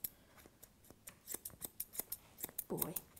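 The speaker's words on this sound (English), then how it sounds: "We're just going to take our scissors straight up, just to the top of his hock." Quick snipping of scissors trimming a Labradoodle's leg hair up to the hock, a series of sharp little clicks in an irregular rhythm, close and quiet, with one brief soft rustle near the end.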